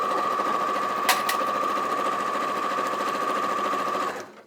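A sewing machine stitching a child's jumpsuit runs at a steady, fast hum with a constant tonal whine, broken by two sharp clicks early on, then stops abruptly near the end.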